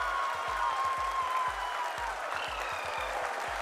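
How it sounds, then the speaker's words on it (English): A crowd applauds steadily, with many hands clapping in a dense patter, heard at moderate distance with a faint tone and murmur behind it. "people are applauding."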